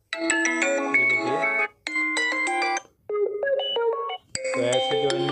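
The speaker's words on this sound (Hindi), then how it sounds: "ये देखिए मेरे फ़ोन में रिंगटोन" A melodic Vivo S1 Pro phone ringtone plays loudly, in several short bursts with brief pauses between them.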